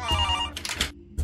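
A telephone rings in a quiet setting at night, a short loud electronic ring burst that stops, then starts again.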